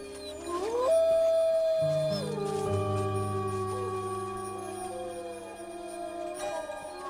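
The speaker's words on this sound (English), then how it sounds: "Wolves howl at any time, day or night" Several wolves howl together in long, overlapping, sliding tones, one rising voice joined by lower sustained howls, clear and fairly close with no talking.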